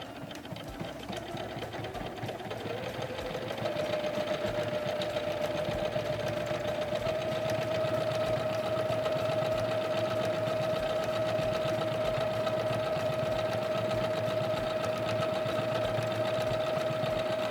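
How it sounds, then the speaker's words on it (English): A SINGER Legacy C440 sewing machine runs a decorative stitch, starting with a soft mechanical rattle and then settling into a steady, loud, even whirring hum that holds without a break until the end. "I'm going to lower my presser foot and depress on our foot pedal"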